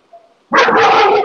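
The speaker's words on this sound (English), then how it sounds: "Oh, fucking dog." A dog lets out one loud, close, sustained bark after a faint brief sound, alone with no talk over it.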